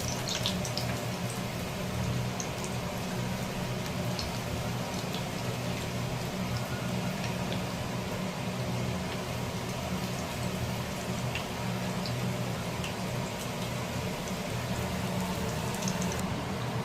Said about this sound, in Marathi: छोटे छोटे गोळे करून गरम तेलात आपल्याला ज्या पाहिजे त्याप्रमाणे आकाराप्रमाणे आपण भजी हे करू शकतो